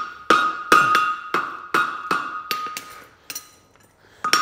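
Hammer on a steel bar being forged into a horseshoe, ringing metallic blows at a steady rhythm of about two per second, close and loud, a few lighter taps near the end, no voices.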